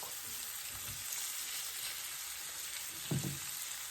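Very thinly sliced andouille sausage simmering in a skillet for Cajun shrimp and grits, a continuous close sizzle with a brief clatter of a utensil near the end, no voices.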